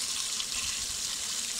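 Water pours steadily into an IBC tank, a dense continuous rushing flow that stays loud and unbroken throughout, with no voices.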